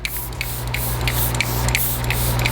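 A makeup setting spray bottle, Hourglass Veil Soft Focus Spray, hisses in a series of quick bursts, about eight short spritzes in a steady rhythm, close and clear.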